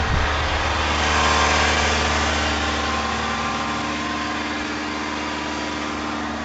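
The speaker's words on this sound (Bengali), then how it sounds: "তো গাড়ি এখন হাই আরপিএম এ ইঞ্জিন চলছে" A Mahindra Scorpio N diesel engine revving at high RPM while stationary during DPF regeneration, a steady loud drone with low harmonic hum running unbroken throughout, no voices.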